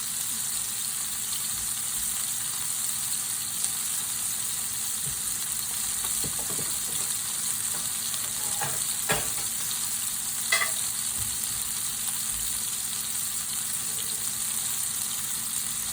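Beef liver frying in a pan under a mesh grease screen, a constant dense sizzle and crackle with occasional sharper pops, steady and close with no talk.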